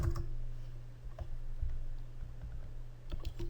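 Faint, sharp mouse clicks in a quiet room, a few scattered taps at irregular intervals over low background hum.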